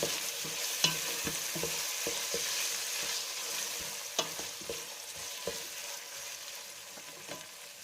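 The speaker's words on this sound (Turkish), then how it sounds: "Şimdi haşladığım mercimekleri, yeşil mercimeklerimi üzerine koyuyorum. Biraz da şöyle kavuruyorum." Boiled green lentils being sautéed in a pan with mint and pepper give a soft, steady sizzle with repeated sharp scraping and stirring clicks from a utensil, fairly quiet and without voices.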